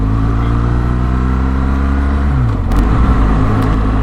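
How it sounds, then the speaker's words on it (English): A car engine hums steadily from inside a vehicle on a road approaching a narrow bridge, its pitch sliding down as it eases off, then a brief whoosh as an oncoming car passes close by. "that's where I meet a car."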